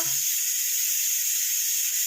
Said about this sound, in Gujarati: હવે નાખશું જીરું અને હવે નાખશું આપણે આખા ધાણા